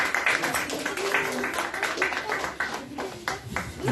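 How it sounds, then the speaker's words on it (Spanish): Church congregation applauding after a call for a round of applause, dense clapping filling the room steadily, with a few voices mixed in. "Demos un aplauso a este momento."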